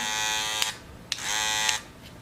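Babyliss Gold FX cordless hair clippers buzz in two bursts with a steady high-pitched whine, stopping briefly between runs, close and fairly loud.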